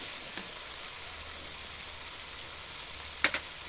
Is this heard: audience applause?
no